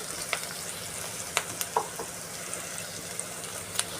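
Onions sizzle and fry steadily with ginger paste in a pan for a prawn and potato curry, a dense continuous crackle broken by a few sharp spatters and scrapes of stirring, no one speaking.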